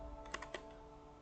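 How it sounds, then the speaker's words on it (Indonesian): Typing the letters BGP on a computer keyboard, a few quick, faint key clicks in a short cluster, then quiet room hum. "Kita langsung saja di sini kita ketikkan BGP"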